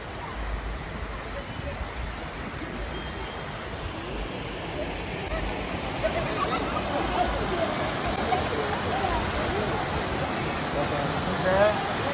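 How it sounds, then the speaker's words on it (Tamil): Steady broadband rush of Thirumurthi waterfall, a continuous roar of falling water heard close and fairly loud throughout, with faint indistinct voices mixed into the wash. "என்ன ஃபால்ஸ் அப்படின்னா திருமூர்த்தி ஃபால்ஸ்"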